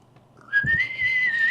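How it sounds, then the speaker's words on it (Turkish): A person whistles a sustained, slightly wavering tune, starting partway in and holding steady near the mic over faint game background while playing Minecraft. "ne kadar güzel ıslık çalıyorum"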